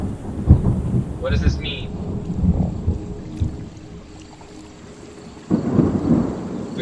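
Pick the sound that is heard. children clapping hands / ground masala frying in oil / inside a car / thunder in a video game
thunder in a video game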